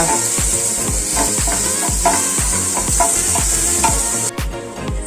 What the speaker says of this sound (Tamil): ஆர்கானிக் பரண்டை நல்லா வதக்கணும்